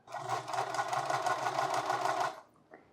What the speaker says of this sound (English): With right sides facing each other, I'm going to go ahead and sew this seam around the curve here.